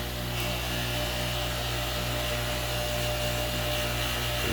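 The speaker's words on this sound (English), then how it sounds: "we're gonna start here on the polishing wheel. And we're gonna hit it with a little red Jeweler's Rouge." A bench polishing wheel loaded with red jeweler's rouge buffs a corroded Browning pocket knife, giving a loud, steady motor whine with a continuous hum throughout, no one talking.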